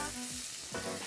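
Butter sizzles and fries steadily in a sauté pan over heat that is too high, giving a soft, continuous crackling hiss with a faint stir partway through, and no voices.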